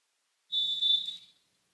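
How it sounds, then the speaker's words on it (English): A single sharp referee's whistle blast at a college volleyball match between Paine College and Baptist University of Florida, shrill and piercing, lasting under a second, clear against a near-silent background. "Correa gets the whistle."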